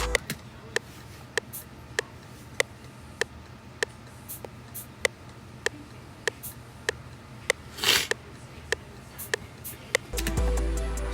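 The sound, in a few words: shaker beat playing with metronome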